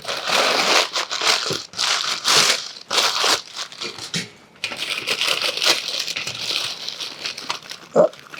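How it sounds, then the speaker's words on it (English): Plastic bag rustling and crinkling in bursts as a vintage Prevue birdcage is unboxed, close and fairly loud, with short pauses and a light knock between handlings. "Oop, there is a plastic bag."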